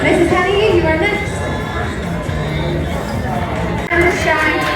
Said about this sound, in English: they're all cheering for you